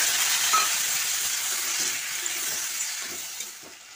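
Ground ginger, poppy seed and cumin paste sizzles steadily in a pan while being stir-fried, a continuous close, even hiss with no talk.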